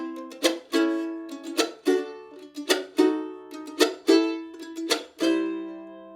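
Strummed acoustic chords in a rhythm with sharp percussive chops on the backbeat followed by anticipated chord hits, about a dozen ringing strums with clear attacks over six seconds, close and solo.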